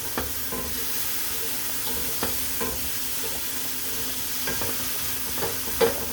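Rosemary, thyme and oregano sizzle steadily in a hot pan, with a few scattered clicks and scrapes of stirring over the constant frying hiss.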